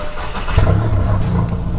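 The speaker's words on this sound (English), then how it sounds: "turn on the car" A Volkswagen Golf GTI or Golf R (MK7) engine starting, with a low rumbling crank and catch that settles into a steady idle hum, close and fairly loud with no voices.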